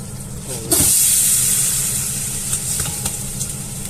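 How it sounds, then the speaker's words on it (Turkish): Pre-soaked, drained rice toasting in a pot for maqluba, a steady near sizzle and hiss that starts abruptly and holds throughout, with faint stirring scrapes and no talk. "Şimdi pilav pirincimi kavuracağım."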